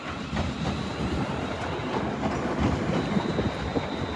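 A London Northwestern Railway Desiro class 350 electric train pulls into London Euston, with a steady rolling rumble, rhythmic wheel clatter and a faint high whine, heard fairly close for the whole stretch without voices.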